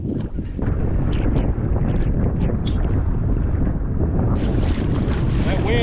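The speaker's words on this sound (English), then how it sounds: "That wind is kicking." Strong wind buffets the microphone on a boat out on Oso Bay in Corpus Christi, Texas, with rough water. A loud, steady roar and rumble of gusts mixes with slapping waves and the hull's motion, and no voices are heard.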